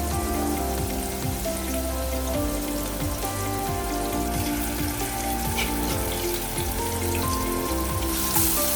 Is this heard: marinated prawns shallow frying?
yes